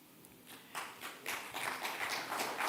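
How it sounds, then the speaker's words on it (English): An audience at the launch of the Caribbean Investment Forum in Barbados starts clapping, a few scattered claps building into fuller, louder applause, no speech over it. "Yes, you can clap for that."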